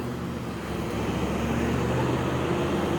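An airplane passes overhead above a street, producing a steady, fairly loud rumbling roar that swells slightly and blends with distant traffic.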